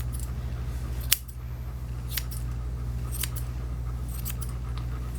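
Grooming scissors snip through matted Goldendoodle hair, four or five sharp, crisp cuts spaced about a second apart, close up over a steady low hum.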